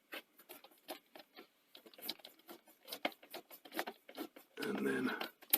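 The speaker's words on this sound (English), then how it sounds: "I'm going to put the front screws in" Screws being driven into the casing of a Sony SL-C30 Betamax VCR, quick rapid ticking and clicking with a short whirring burst near the end, close and faint.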